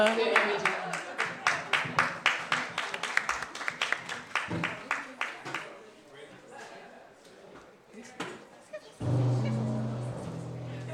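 Audience applause for a violinist at a live brunch show, steady rhythmic clapping that thins out over several seconds, with talk over it and a loud burst of noise near the end.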